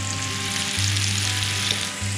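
Pieces of deer heart fry in hot oil in a pan, a steady loud sizzle with a constant low hum running underneath throughout.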